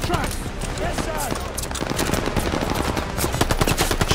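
Dense, sustained machine-gun and rifle fire rattles through a chaotic World War II battle in Call of Duty Vanguard, with rapid overlapping bursts and shouted voices mixed in.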